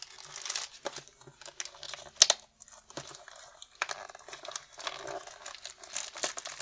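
Tough plastic packaging being pulled and torn off a product, a close crinkling and crackling in irregular bursts with one sharp snap partway through, continuing in busy rustling patches.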